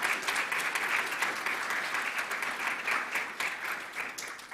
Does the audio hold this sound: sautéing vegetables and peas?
no